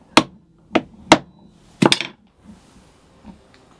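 A small metal leather punching tool being tapped to punch a hole for a brass rivet in a knife sheath, four sharp knocks at uneven intervals, the last a quick double, followed by faint soft taps.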